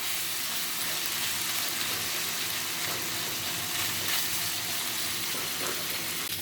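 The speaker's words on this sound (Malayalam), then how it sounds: "നമുക്കിത് നല്ലപോലെ ഇളക്കി വഴറ്റി നല്ലപോലെ മൂപ്പിച്ചെടുക്കണം." Mutton liver sizzles steadily in a hot pan as it is stirred, a continuous close frying hiss with faint scraping and no talk.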